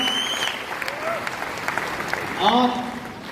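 Applause from an audience gathered at a leadership event, steady clapping filling the room with voices and tonal sounds rising over it near the end.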